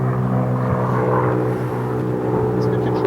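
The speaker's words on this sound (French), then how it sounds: "on va laisser passer l'avion" A propeller airplane passing overhead during a golf practice session, a steady droning engine hum that stays loud and even throughout, heard alone without speech.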